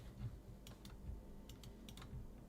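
Soft, quiet typing on a computer keyboard, a scattering of light key clicks in an irregular rhythm over a low background hum.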